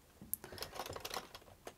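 Rapid keystrokes on a computer keyboard while a terminal command is entered, a quiet, irregular run of light clicks and taps with no talking.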